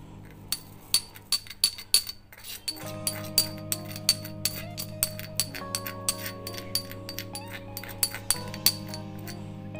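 Chilli flakes and seeds are stirred together in a glass bowl, giving a series of sharp, close clinks and taps at an uneven rhythm over a low steady hum.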